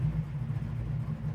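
A 1969 Chevelle's aluminum-headed small-block V8 idling with a lumpy cam, a brief low steady rumble heard close up.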